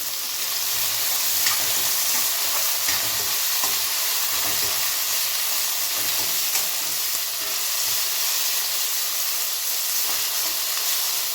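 Beans and carrots stir-frying in a pan, a steady close hiss and sizzle with faint scraping of stirring, continuous and even throughout.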